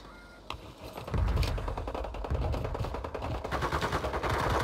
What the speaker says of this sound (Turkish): Aşağıda bir çatışma var.